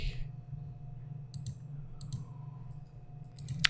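A computer mouse clicks a few times, sharp small isolated ticks spaced apart over a quiet low hum while editing a product in PrestaShop online store software, with no talking.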